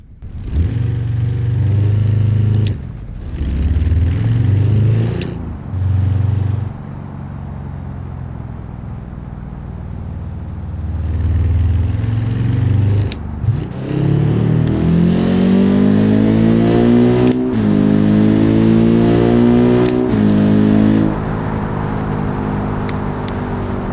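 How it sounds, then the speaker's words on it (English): A Hirochi CCF car engine with VTEC revs repeatedly, climbing to high pitch and dropping back, loud and close, with sharp gear-like pops between bursts and no talking. "this car has, I think it has VTEC, if I'm not wrong, and it sounds really good"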